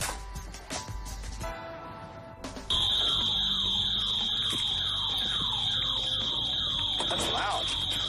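A home burglar alarm blares after a few seconds of background noise, its loud piercing tone holding steady alongside a rapidly repeating warble that continues without letup.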